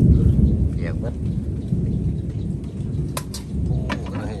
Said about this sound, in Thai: ตอนนี้ฝนตกลงมาเปียกมั้ย